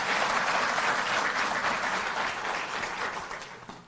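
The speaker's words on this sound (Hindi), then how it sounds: "एक बार जोरदार तालियों से आप करें।" Loud, sustained applause from an audience at an AAP government event in Delhi, a dense clapping wash that fills the full four seconds and tapers slightly near the end.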